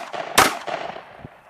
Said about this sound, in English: drop the magazine, let it fall free.